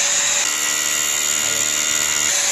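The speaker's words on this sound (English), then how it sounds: "vacuum cleaner kicks in and you can start drilling." A dust vacuum whines at a high pitch while a drill grinds steadily into concrete underneath, both running together close by for a couple of seconds.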